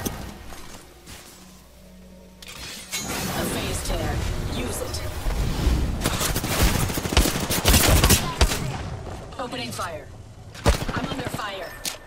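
Video game gunfire crackles in loud, rapid bursts of shots that build and thin out over about twelve seconds, with voices talking in the background.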